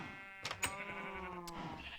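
A sheep in the video game Crysis lets out a long wavering bleat, close and clear, with a few short sharp clicks sounding over it and no talk.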